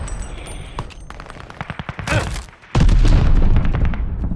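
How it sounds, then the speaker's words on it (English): Enemy gunfire in a first-person shooter, rapid shots rattling off in quick bursts, then a heavy roaring barrage of sustained fire that fills the end, loud and close with no talk. "Cover your heads! Enemy bullets!"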